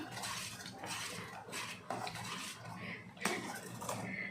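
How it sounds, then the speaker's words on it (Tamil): A spoon scrapes and clinks against a pan while coconut milk khoa is stirred on low heat, in repeated soft strokes with a few sharper metallic taps, close but quiet. "சிம்மில் வச்சுட்டு நம்ம கட்டிப்படாமல் கலந்துக்கிட்டே இருப்போம்."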